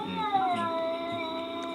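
A cat lets out a drawn-out, wavering meow or yowl for nearly two seconds, close and fairly clear, over a faint background.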